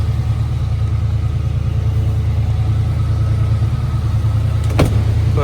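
A 1967 Chevrolet Camaro idling with dual exhaust, a loud, steady low rumble that stays constant at close range, with a brief sharp mechanical click near the end and no talking.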